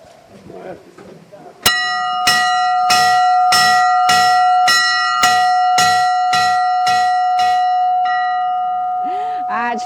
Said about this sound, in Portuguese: Tocando sino, pode ser? Como se fosse a buzina do trem.